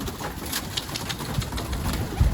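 A runaway pigeon cooing close by, soft low throaty coos repeating under light background noise, with a brief rustle near the end.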